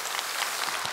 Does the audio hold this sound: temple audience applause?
yes